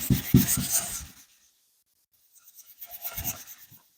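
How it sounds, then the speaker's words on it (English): A dry Brillo pad scuffs a car bumper in two short bursts of rough rubbing, about a second each, with a quiet gap between them. "now I'm gonna take a dry Brillo pad and just scuff up this a little bit more on this side"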